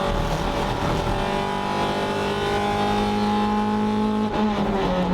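Race car at full throttle through turn 13 on the Circuit Excel racing circuit, its engine a steady loud drone with a brief gear change near the end, no voices.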